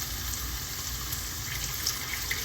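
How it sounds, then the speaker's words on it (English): Mushroom soaking water is poured into hot risotto stock in a home kitchen, a steady soft liquid pour with faint bubbling, fairly quiet and continuous with no talk. "in here I'm gonna add the water of the mushrooms"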